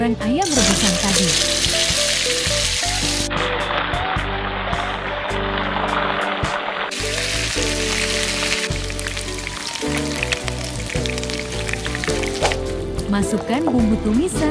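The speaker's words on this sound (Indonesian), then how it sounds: "Kemudian goreng ayam rebusan tadi." Boiled chicken pieces frying in hot oil for soto ayam, a steady loud sizzle and crackle running throughout, with a voice speaking over it.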